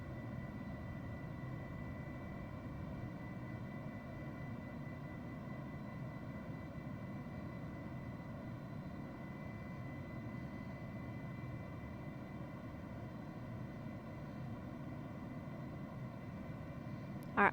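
Airbus A320 airliner on its takeoff roll, engines producing a steady, loud roar with sustained tonal hum throughout, heard without speech.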